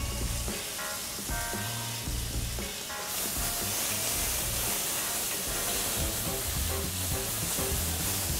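Onion fries in a pan for a beef stew, giving a dense, loud sizzle and crackle that continues evenly throughout, with faint kitchen clinks mixed in.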